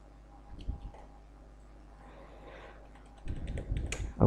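Keys tap on a computer keyboard as text is entered into a certificate template. The soft, close clicks come in two short clusters separated by a quiet stretch, with a quicker flurry of keystrokes near the end.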